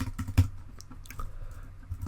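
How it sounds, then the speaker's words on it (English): Close keystrokes on a computer keyboard, a quick irregular run of taps of varying weight with a heavier thump near the start. "I'm going to type in Twitter"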